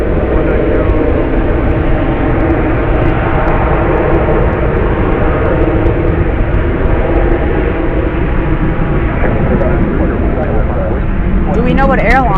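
A Boeing 777-300 heavy jet arriving at Dallas/Fort Worth International Airport at night, heard as a loud, continuous engine roar that stays steady throughout, with a voice speaking over it.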